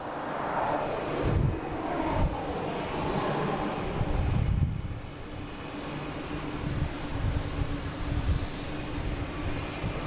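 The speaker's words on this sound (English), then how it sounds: "we got an American taking off, heading to Phoenix, an A321 Neo" An American Airlines Airbus A321neo on its takeoff roll at Boston Logan International Airport, a steady loud jet engine roar swelling and rumbling at mid distance, heard alone with wind noise on the microphone.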